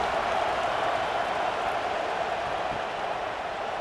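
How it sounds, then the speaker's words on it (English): A stadium crowd roaring in the College Football 26 video game during Michigan vs USC, a dense, steady wash of distant cheering and buzzing that holds at an even level throughout, with no voices standing out. "this crowd is buzzing after that last score"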